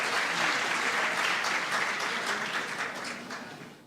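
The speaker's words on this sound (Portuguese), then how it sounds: "O auditório aplaude o conferencista." An auditorium audience at an opening conference of a rural congress applauds a speaker, dense steady clapping that fills the room and tapers slightly toward the end, with no voices over it.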